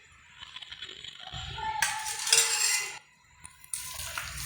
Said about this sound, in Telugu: ఇలా మొత్తం మళ్ళీ మిక్స్ చేసుకోవాలి.